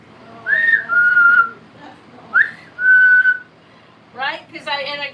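Someone whistles a tune up close in a quiet room, with short rising notes and held tones in separate phrases, ending in a rapid warbling run.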